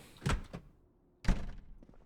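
A back door in Project Zomboid opens and closes, two solid thunks about a second apart, close and distinct against near silence.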